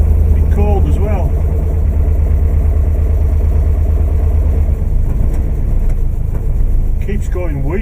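A 16V Mini engine idles roughly from inside the car, a loud, steady low drone that wavers slightly, while a person speaks briefly over it.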